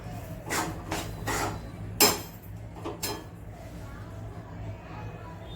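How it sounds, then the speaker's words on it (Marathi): Sesame and jaggery mixture roasting in a pan while a spoon stirs it, giving several scraping, clattering strokes in a loose rhythm over a low steady hum, with a sharper knock near the middle. "साधारण एखादा मिनिट हे दोन्ही मिळून भाजून घ्यायचं"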